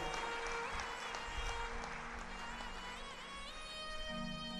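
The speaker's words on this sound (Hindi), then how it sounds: "जरा ताली बजा दो, मुस्कुरा दो" Audience at a Shiv Mahapuran katha clapping, a dense and moderately loud patter of many hands blended with crowd murmur and devotional music tones, continuing steadily throughout.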